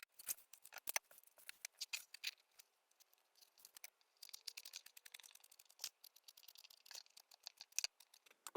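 Scissors snipping repeatedly, cutting at matching spots on each side of a piece during a small craft gluing job; quiet, close, irregular clusters of sharp snips with brief pauses, no talking.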